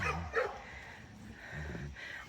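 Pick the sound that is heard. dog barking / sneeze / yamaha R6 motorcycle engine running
dog barking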